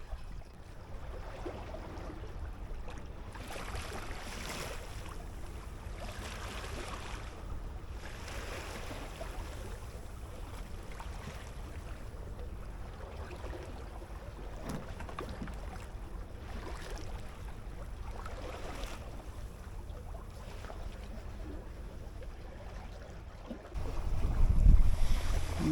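A junk-rigged sailboat under way at sea in a good wind, with a steady wash of water and wind noise rolling in soft repeated surges, then a louder gust of wind buffeting the microphone near the end.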